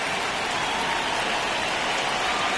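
Steady rain pours across a baseball field in MLB26, a dense, even hiss of drops with no breaks, moderately loud and unaccompanied by voices.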